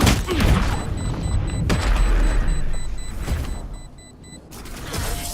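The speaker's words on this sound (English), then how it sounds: "I love explosions." Explosions in the first-person shooter Valorant sound as heavy booms and blasts, loud and close, with several impacts over a few seconds against game effects and a steady high electronic tone.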